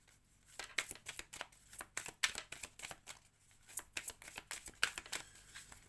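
A deck of Oracle Plume oracle cards being shuffled by hand, heard close and quiet as repeated quick riffling bursts separated by short pauses, with no talk.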